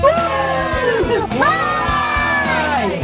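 University of Kentucky fans shout a cheer together, loud overlapping voices with rising and falling whoops that swell twice, crowd-like and close.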